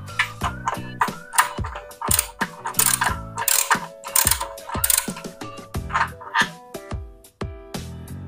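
A ratchet socket wrench with a 14mm deep socket works on motorcycle exhaust bolts of a Honda Click 125i, loud rapid clicking bursts in repeated strokes, close and with no talking.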